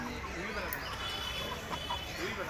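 Chickens cluck in a busy Sunday market in Indore, India, their scattered calls mixed into steady crowd noise and chatter.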